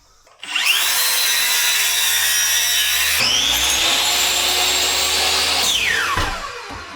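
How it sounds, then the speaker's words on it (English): A loud, steady motorized whine and grind, more like a power tool than hand sawing, runs for about six seconds on wood inside an old Japanese house, shifting pitch midway before winding down. "I get my little handsaw."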